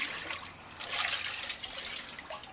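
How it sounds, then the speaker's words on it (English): Weed tea liquid scooped into a bucket, a continuous wet trickling and sloshing that swells in the middle and ends with a small splash, close and alone. "When it's done, you can just scoop it up into a bucket like this,"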